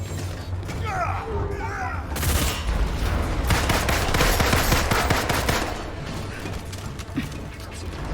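Heavy rapid gunfire and mechanical weapon clatter from a big gun in the Marvel's Avengers video game, loud and dense for most of the stretch, with a lighter start and some speech faintly mixed in.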